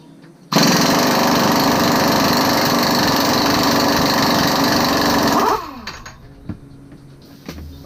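An impact wrench or air tool hammers loudly and continuously for about five seconds while loosening the front wheel bearing hub nut on an S10 ZR2, then winds down, followed by faint clanks.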